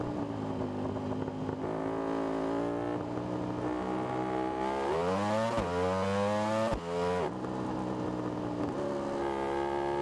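A high-revving racing motorcycle engine in the video game RiMS Racing screams steadily, pitch climbing and dropping through gear changes, loud and continuous with no talking.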